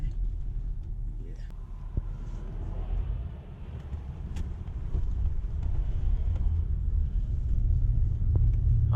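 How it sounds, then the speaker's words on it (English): A Toyota Celsior, also sold as the Lexus LS400, coasts downhill at next to no throttle. Its low engine and road rumble stay steady from inside the cabin, with wind noise over it. "we'll see what it's like as you cruise down that hill at next to no throttle into the sunshine"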